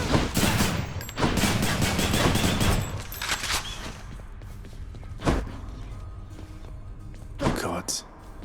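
Rapid bursts of video game gunfire in Trove, dense fusillades up front that thin into a few isolated shots, with a voice speaking over the action.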